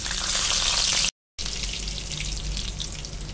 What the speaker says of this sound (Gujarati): અહીં આપણું તેલ સરસ રીતે ગરમ થઈ ગયું છે, તો આપણે તેમાં થોડું જીરું નાખશું.